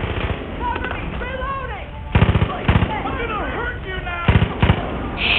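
Sharp, loud gunshots crack in clusters of two and three during a jail fight in Far Cry 5, punctuating shouting voices between the bursts.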